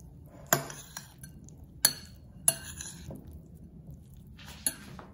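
A spoon mixes spiced sweet corn masala in a bowl, with several crisp isolated clinks against the dish spaced a second or so apart over near silence.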